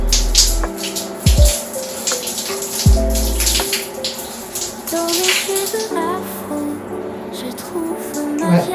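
Water runs and splashes while long, soft curly hair is rinsed and the scalp massaged during a wash day, a close continuous gush with irregular spatters and shifts in flow.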